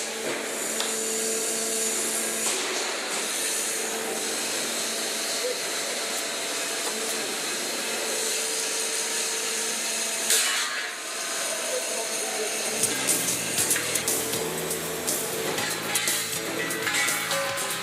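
A CNC Angle-Matic machine works steel angles in a fabrication shop, giving a continuous loud mechanical whine and hiss with shifting tones, then rhythmic clanking and tonal machine pulses near the end.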